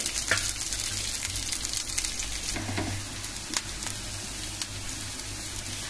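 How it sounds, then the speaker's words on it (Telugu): Onions, garlic and green chilies fry in a hot pan with a steady, dense sizzle that runs throughout, broken by a few sharp crackles and light spatters. "ఉల్లిపాయలు, ఎల్లుల్లిపాయలు, పచ్చిమిరకాయలు, అలాగే 2 పచ్చిమిరకాయలు"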